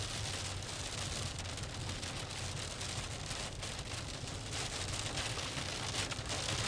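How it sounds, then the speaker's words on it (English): Steady rain drums on a moving car as it drives through a storm-chase downpour in Iowa, a dense, even hiss of drops with no voices over it. "just driving through some basic rain right now"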